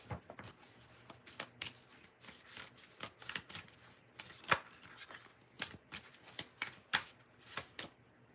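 Tarot cards being shuffled by hand, a rapid series of riffles and taps in irregular bursts, close and fairly quiet with no talking.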